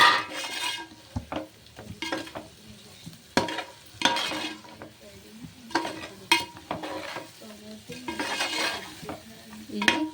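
Eggs being stirred into a frying dried fish curry, with a spoon scraping and knocking against the pan in bursts over a soft sizzle.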